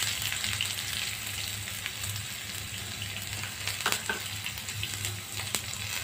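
Onion hits hot oil with mustard seeds in a pan for snake gourd poriyal, giving a steady bright sizzle that holds throughout, with a few faint clinks and no talk.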